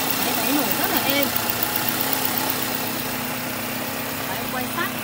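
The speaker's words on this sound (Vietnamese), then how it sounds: "máy nổ rất là êm" A 2009 Nissan Bluebird with an automatic 2.0 engine idles smoothly up close, a steady even hum with a voice talking over it.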